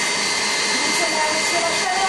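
Egg whites whipped with hot sugar into meringue by an electric mixer give a steady, loud whirring drone that holds without a break from start to finish.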